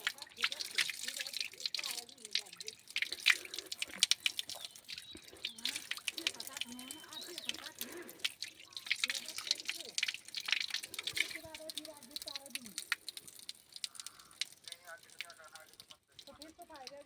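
Water dripping through a home water filter, a run of irregular, close drips and trickles with soft splashes, while someone talks over them.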